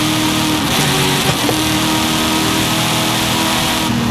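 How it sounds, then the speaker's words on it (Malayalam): A restored police car in a driving video game revs hard, its loud engine roar holding steady with brief breaks where gears shift, close and continuous with no voices. "കിടില സൗണ്ടാണ് വണ്ടി ഷിഫ്റ്റ് ആക്കുമ്പോഴത്തേക്ക്, നമ്മൾ ഗിയർ ഷിഫ്റ്റ് ചെയ്യുമ്പോഴത്തേക്ക്"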